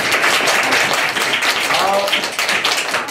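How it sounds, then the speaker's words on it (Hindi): Children at a storytelling competition clap for themselves, a loud, close, uneven patter of many small hands with some voices mixed in during the clapping. "अपने लिए ताली बजा दीजिए।"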